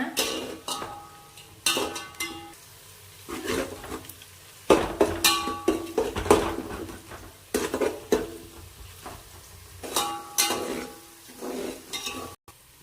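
Sliced onions sautéing in a pan over a medium flame until golden for chicken dum biryani, a spoon repeatedly scraping and clinking against the metal over a soft sizzle, close up, steady and busy, with no talking.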